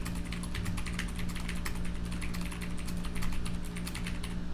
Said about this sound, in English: That's a keyboard sound